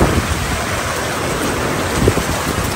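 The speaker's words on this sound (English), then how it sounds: "It's raining." Steady rain pours down on a teardrop trailer camp, a dense, even hiss of drops on surfaces and canvas, continuous and fairly loud with no talk.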